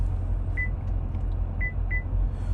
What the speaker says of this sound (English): I'm gonna hear a beep on the set and a double beep here.